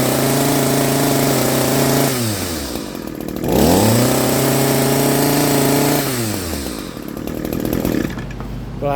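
An Echo SRM-210 string trimmer engine runs loud and close after a carburetor and fuel line repair, revving up and down between idle and high speed, with no talking.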